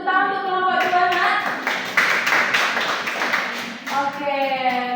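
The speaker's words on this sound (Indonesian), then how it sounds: "Ibu beri tepuk tangan untuk kelompok 2 Nak." Classroom applause for a student group: a burst of many hands clapping together for a few seconds, loud and dense, with children's voices talking before and after it.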